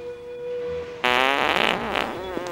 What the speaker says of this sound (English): at least the fart is something new